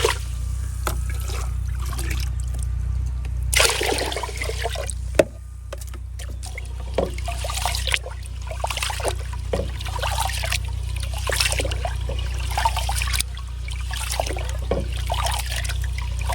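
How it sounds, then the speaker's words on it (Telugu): Water trickles and sloshes as basmati rice is washed, giving irregular splashy bursts over a steady low hum, fairly close and without talking. "నీళ్ళు పోసుకొని ముందు బియ్యం కడుక్కున్నామమ్మా"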